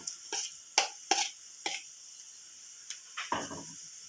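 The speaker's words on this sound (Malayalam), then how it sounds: "നമ്മൾ നമ്മുടെ ക്യാബേജ് അരിഞ്ഞ് അരിഞ്ഞത് ഇട്ട് കൊടുക്കുകയാണ്" Chopped cabbage is tossed and stirred in a pan for a Kerala thoran with dried prawns, giving several sharp spoon-on-pan scrapes and clacks in quick, uneven succession, followed by a softer, longer rustling stir near the end.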